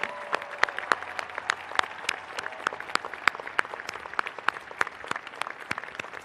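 Commencement audience applauding at a university-wide ceremony, a dense, even patter of many hands clapping throughout, moderately distant in a large hall, with no talk over it.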